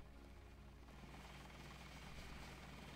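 A helicopter in the video game Deus Ex makes a steady, loud rotor drone with a rhythmic thumping pulse. It holds continuously throughout, with no talk over it.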